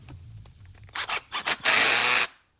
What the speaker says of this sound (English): Now let's fit the vacuum hose back in. Just like that. Let's tighten the clamp.